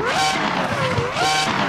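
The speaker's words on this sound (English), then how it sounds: "we missed that sound from Formula 1" A Formula 1 style race car in Assetto Corsa, on the Super GP mod, with a loud high engine note that rises and falls steadily with no break and no voices over it.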